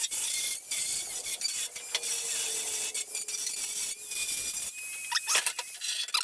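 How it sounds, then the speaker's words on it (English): Dremel rotary tool cleaning up the edges of diamond-shaped holes in steel for a Datsun 240Z roof skin restoration, a continuous close high-pitched grinding rasp with brief dips as the tool shifts. "I'm just going to clean them up with the Dremel, the edges,"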